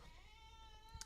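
A cat meowing, a single faint drawn-out tonal call behind low background noise, with no talk over it.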